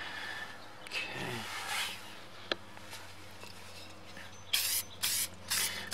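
Short hissing bursts from an acrylic sealer spray can, several quick sprays near the end after a quieter stretch of faint rustling.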